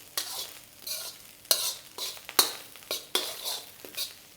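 Carrot and capsicum being stir-fried for Chinese fried rice, a spatula scraping and clanking against the pan in a steady rhythm over soft sizzling, close and moderately loud.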